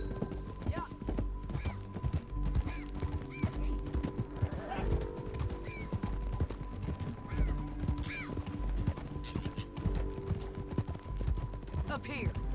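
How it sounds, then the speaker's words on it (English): Horse hooves clip-clop in a steady galloping rhythm in the video game Red Dead Redemption 2, joined by a few whinnies, with game characters talking over the hoofbeats. "Get back on your horse, John."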